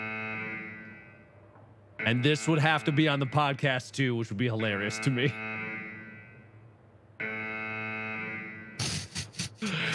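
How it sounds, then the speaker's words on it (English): A steady, harmonically rich alarm tone plays continuously at an extraction point in Escape From Tarkov. It sits under talk, then continues alone before a harsher buzzing burst at the end. "So that's the alarm. It's going to be loud for 5 minutes"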